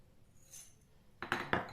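Dishes clink in a kitchen as a lid is set over glasses holding a home cough and cold remedy: faint shuffling, then three sharp, close glassy knocks in quick succession.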